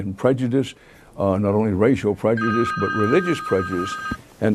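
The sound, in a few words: telephone ringing during TV interview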